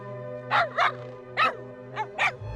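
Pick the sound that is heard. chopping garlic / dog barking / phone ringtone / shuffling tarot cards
dog barking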